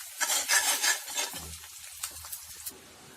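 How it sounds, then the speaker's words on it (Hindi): A ladle stirring leftover chapati noodles with onions in a pan, several quick scraping strokes in the first second or so, then softer clinks and light sizzle fading out, close and alone. "बट आपकी कड़छी चलते रहनी चाहिए ताकि ये जले नहीं"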